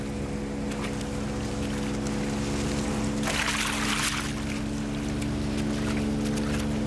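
A motorboat on a river gives a steady, droning engine hum throughout, with a brief surge of rushing water and wash swelling near the middle before settling back.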